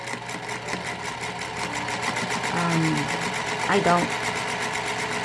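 Domestic sewing machine stitching scrap fabric for a crazy quilt, a fast steady mechanical hum with rapid needle ticking running throughout, while someone talks over it.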